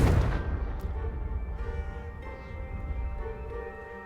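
A Confringo fire blast spell in Hogwarts Legacy opens with one loud, booming burst. Its rumbling tail fades slowly under sustained game music.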